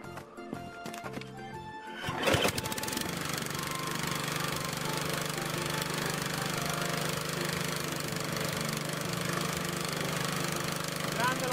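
A Lombardini engine on a walk-behind tractor is pull-started with a cord and the throttle slightly open. It catches after a couple of seconds and settles into a loud, steady, knocking idle, close by.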